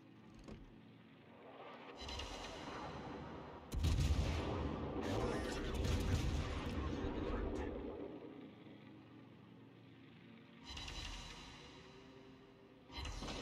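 Warship guns in World of Warships boom in heavy, rumbling salvos that swell and linger for several seconds, with someone talking over the battle noise.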